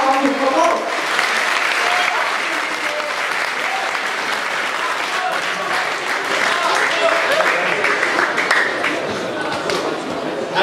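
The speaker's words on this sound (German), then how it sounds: "aber mal einen riesen Applaus für die beiden." Gala audience applauding two people, sustained dense clapping from a large crowd for about ten seconds, with voices mixed into the wash.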